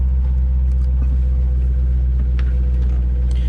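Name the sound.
C7 Corvette Z51 engine idling with AFM lifter failure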